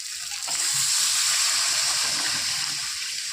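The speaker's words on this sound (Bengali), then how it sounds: "এবার দিয়ে দেবো পরিমাণ মতো জল" Water poured into sizzling, oil-separated masala for a rohu fish curry, heard as a loud, steady rush and hiss that swells in after a moment and holds without pause, with no voices.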